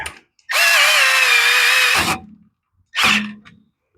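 A close, high-pitched grinding whir of a tool scraping against a go-kart carburetor body, a long burst of over a second followed by a brief second burst.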